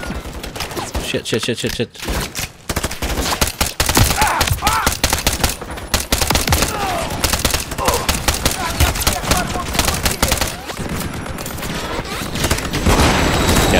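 Turret gunfire in Call of Duty Modern Warfare 3: loud, dense bursts of rapid automatic shots with booming impacts, nearly continuous over the whole stretch, with a man briefly cursing over it.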